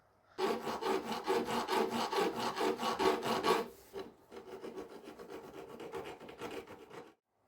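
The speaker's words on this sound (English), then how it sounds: "I'm just going to file this smooth, get rid of all the rough edges" Rapid rhythmic rasping strokes of a hand file smoothing rough edges on a Honda Vision scooter panel, loud and close for about three seconds, then a lighter, quicker run of strokes.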